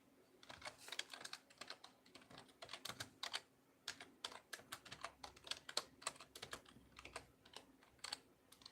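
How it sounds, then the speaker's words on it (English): Rapid, close keystrokes on a computer keyboard, clicking in quick irregular bursts with brief pauses between words, with no voices. "now I'm typing in fasting and heart risk"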